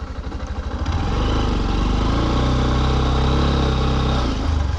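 Honda CB125F motorcycle engine pulling uphill on a slipping clutch, a close, loud, steady mid-pitched drone that rises from a throbbing idle-like pulse into a sustained strained hum, fitted with dirt bike clutch springs on muddy ground.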